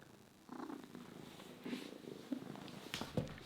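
A hungry house cat named Milka purring steadily up close, a soft continuous rumble that swells louder in the second half.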